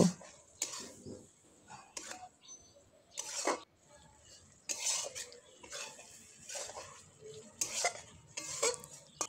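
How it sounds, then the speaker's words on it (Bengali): A spoon scrapes and clinks through a bean, potato and eggplant curry in a pan, irregular close stirring strokes over a faint sizzle. "ভালোভাবে মিক্স করে নেব।"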